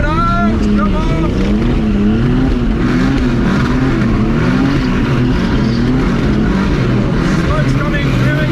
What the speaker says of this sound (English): Doing a burnout!